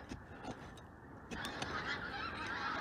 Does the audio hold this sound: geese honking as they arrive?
yes